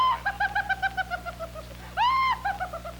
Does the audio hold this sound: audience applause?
no